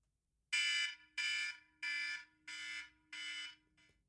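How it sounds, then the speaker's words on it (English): A timer alarm sounds five loud, evenly spaced bursts of a harsh electronic beep followed by a short partial one, isolated in a quiet room. "every time the alarm goes,"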